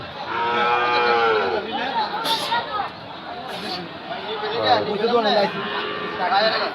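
Cattle at a livestock market moo in long, drawn-out calls over a background of crowd chatter and nearby talking.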